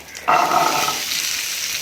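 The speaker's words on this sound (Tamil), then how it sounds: "வெங்காயம் சேர்த்து இதை நல்லா நம்ம ரோஸ்ட் பண்ணிக்கலாம்." Small onions, half a kilo, hit hot oil with chopped ginger for mutton intestine gravy, bursting into a sudden loud sizzle that settles into a steady close crackle, with no voices.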